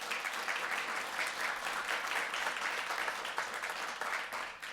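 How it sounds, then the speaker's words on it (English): A steady round of clapping fills a school district board meeting as the room applauds National Night Out volunteers, dense and sustained throughout at moderate distance with no break. "So let's give them a nice round of applause."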